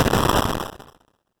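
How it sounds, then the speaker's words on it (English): A scream run through a vocoder, then overdriven and bit-reduced into a harsh, corrupted digital burst: one loud, noisy blast that decays and cuts off after about a second, with no other sound. "Added some overdrive and the classic bit reduction to have an even more corrupted signal."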